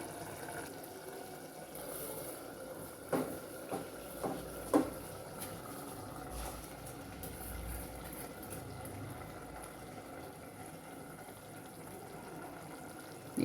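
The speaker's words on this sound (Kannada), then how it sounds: "ಈ ಥರ ಚೆನ್ನಾಗಿ ಕುದೀತಾ ಇದೆ" A pot of water for green chicken biryani rice bubbles and simmers softly and continuously, with a few faint clinks early on and no voices.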